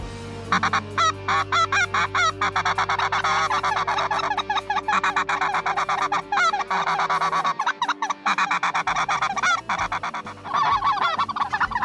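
Snow geese calling during a waterfowl hunt, a dense, loud chorus of overlapping honks and barking cries that runs nonstop for the whole span, with a low drone underneath at first.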